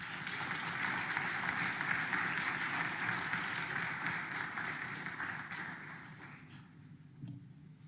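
Audience applause at an inter-school public speaking competition welcoming a school, a broad sustained roar of clapping from a large crowd, heard at some distance and fading out near the end.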